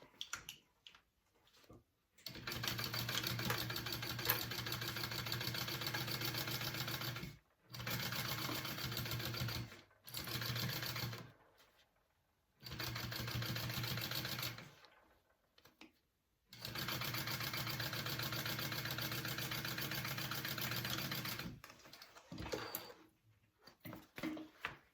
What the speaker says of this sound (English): I'm going to go ahead and sew that on at a 3/8 inch